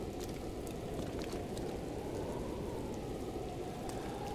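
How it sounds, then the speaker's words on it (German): Rain falls in The Legend of Zelda: a steady, faint, dense hiss of drops that stays even throughout, with no voices. "Natürlich regnet es."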